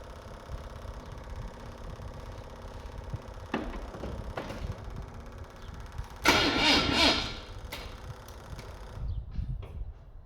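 An old engine is cranked over in an attempt to start it, giving a steady mechanical churn with a few sharp knocks and one louder burst of cranking, then dying away near the end.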